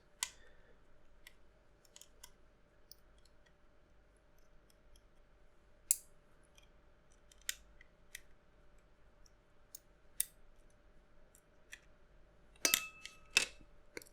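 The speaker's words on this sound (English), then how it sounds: "So I'll actually remove these screws." Tiny screws are taken out of a PSP handheld console: sparse, sharp little clicks and ticks scattered over a near-silent background, with a quick cluster of clicks near the end.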